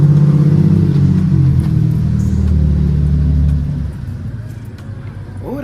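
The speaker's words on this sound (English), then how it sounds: "Oh, that truck was loud." A loud truck rumbles past close by, its heavy low engine drone strong at first and then fading and receding over several seconds.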